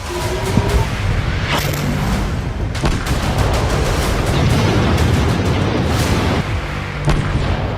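Explosions from Israeli strikes on Gaza sound as repeated heavy booms and blasts over a continuous loud rumble, with several sharp impacts spread across the stretch.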